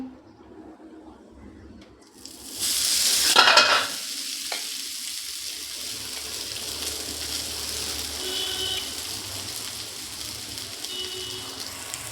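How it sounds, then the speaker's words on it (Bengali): Chow mein noodles hit a hot wok with butter in a loud sizzle that settles into steady frying crackle, with occasional stirring scrapes. "চাউমিনটাকে আমি ভালো করে ভেজে নেব"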